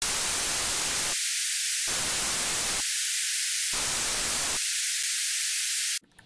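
Loud steady hiss of synthesized noise that switches between full-range and high-only bursts in a gated pattern, then cuts off abruptly.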